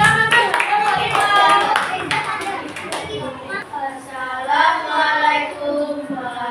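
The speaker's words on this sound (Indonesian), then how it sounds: "Ayo kita beri aplaus untuk kelompok 5." Primary school pupils in a classroom clap for a student group, giving brief scattered hand claps at the start, then children's voices and chatter take over and fill the rest.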